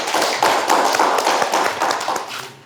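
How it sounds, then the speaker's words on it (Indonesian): Applause in a classroom-style vocational session on electrical lighting systems, dense clapping from a group that stays loud and steady for a few seconds before tapering off at the end. "Beri tepuk tangan 1 kali lagi."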